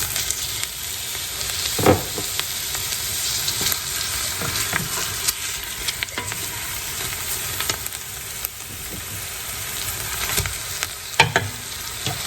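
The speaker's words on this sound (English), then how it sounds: "Now we're going to add in our ham hock." Minced garlic and a ham hock sizzle in a pot for mixed collard greens and cabbage, giving a steady, close, crackling fry with occasional sharp stirring clatters and no talk.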